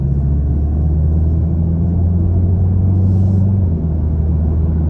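A 2022 Volkswagen GTI with a 7-speed DSG accelerating on a highway, giving a steady, loud low engine rumble with road noise throughout.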